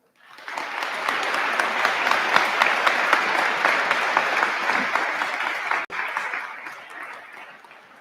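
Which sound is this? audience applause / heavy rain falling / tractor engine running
audience applause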